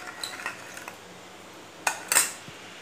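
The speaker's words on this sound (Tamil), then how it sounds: "நல்லா கலக்கி விட்டுட்டே இருங்க" A spoon knocks and scrapes against a pan of milk heating for coffee: a few soft clinks early on, then two sharper metallic taps close by over a quiet background, with no talking.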